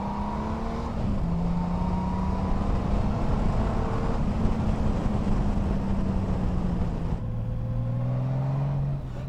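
A Honda Goldwing bagger motorcycle with a manual gearbox rides at an easy pace, its engine droning steadily close by with rising and falling pitch through gear changes, under constant wind and road noise.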